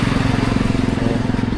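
A motorcycle engine drones steadily and loudly at close range during a ride toward India Gate in Delhi, with an even throbbing rumble and wind noise throughout.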